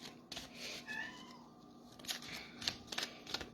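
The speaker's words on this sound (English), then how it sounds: "we'll see if we can tolerate the meowing in the background" A house cat that wants to be let out meows softly in the background, with a few faint, drawn-out cries and some light clicking and shuffling nearby.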